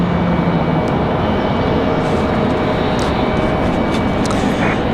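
A United Airlines airliner at Raleigh-Durham International Airport gives a loud, steady, broadband jet roar that fills the whole stretch without letup.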